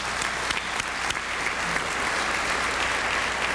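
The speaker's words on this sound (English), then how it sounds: "give them a round of applause" Sustained applause from a crowd, many hands clapping steadily at an even level, with no talk over it.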